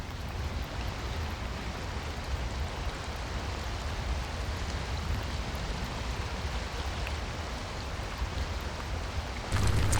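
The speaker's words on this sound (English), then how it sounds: "It started to rain." Steady rain falling outdoors, a dense even hiss of drops that holds constant throughout and thickens slightly near the end.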